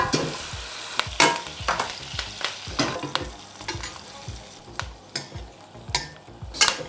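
Steak frying in a pan with torn fresh thyme and tarragon, sizzling steadily close up while a spoon repeatedly bastes it, giving a run of sharp scrapes and splashes over the crackle.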